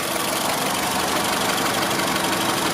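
A 2001–2005 Honda Civic engine idling nearby, a steady rumbling hum with a faint rhythmic knock, continuous and unchanging with no voices.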